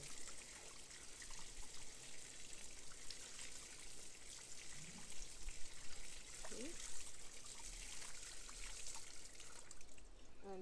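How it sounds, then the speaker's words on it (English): Tap water rinsing the roots of a desert rose during repotting, making a steady faint trickle and splash throughout with soft clinks and handling noises. "I'm gonna rinse it."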